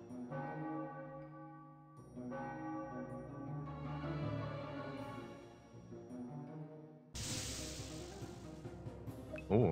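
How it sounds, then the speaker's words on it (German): Church bell tolling in the game Celia's Quest, several deep resonant strikes with long ringing decays, followed by a sudden burst of noisy commotion. "Wir haben die Kirchenglocke."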